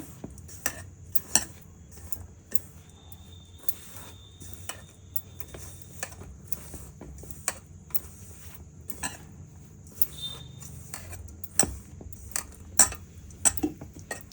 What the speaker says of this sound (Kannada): ನೋಡಿ ನೀರಾಗಿ ಕಲಿಸ್ತಾ ಇದ್ದೀನಿ.